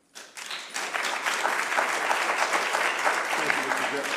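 An audience at a county commission meeting breaks into applause, a steady burst of many hands clapping that starts abruptly and holds for several seconds.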